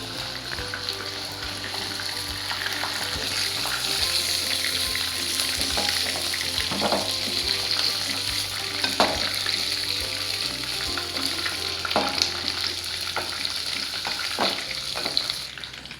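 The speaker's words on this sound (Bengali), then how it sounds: "একটু মোটামুটি গোল্ডেন ব্রাউন করে ভেজে নিয়ে তারপর এটা তুলে নেব" Chicken pieces fry to golden brown in hot oil and ghee, a steady dense sizzle and hiss with occasional spatula scrapes and clinks throughout.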